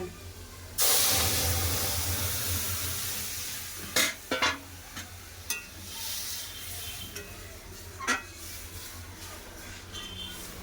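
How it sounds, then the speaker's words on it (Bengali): Dal hits hot oil with fried green chillies in a pan, bursting into a loud, sustained sizzle and hiss, followed by several sharp clattering stirs of a spoon against the pan, with no talking. "কাঁচা লঙ্কা ভাজা হয়ে গেছে এবার ডাল দিন ডাল দিন"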